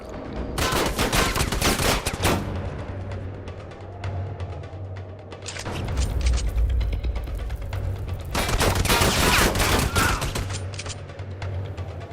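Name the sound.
gunfire and shotgun shots in a video game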